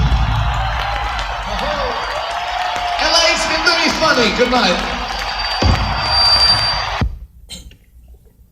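A concert crowd in LA cheering fanatically, a broad roar under someone speaking from the stage, cutting off abruptly near the end.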